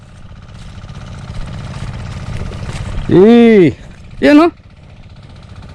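Engine of an irrigation water pump in a farm field runs with a low, steady idle beneath a voice, interrupted by two short, loud rising-and-falling whoops.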